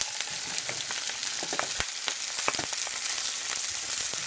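Scrapple fries in an oiled pan, a close, steady sizzle dotted with sharp crackles and spits of hot oil throughout.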